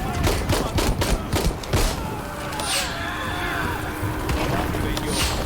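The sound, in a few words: gunfire in Shadow of the Tomb Raider video game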